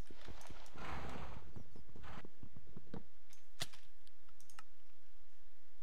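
Rapid hoof clip-clops with a horse-like snorting whinny from Minecraft (Hexxit modpack), followed by scattered sharp clicks over a steady low hum, sounding like game audio.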